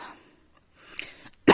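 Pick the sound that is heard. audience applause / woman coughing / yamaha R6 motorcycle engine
woman coughing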